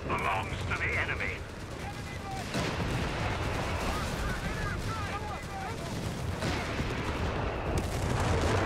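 Strafing run attack in Company of Heroes, with rapid machine-gun bursts, heavy booms and rolling explosions layered together into a loud, continuous barrage while a voice speaks over the battle.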